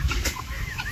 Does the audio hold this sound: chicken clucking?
yes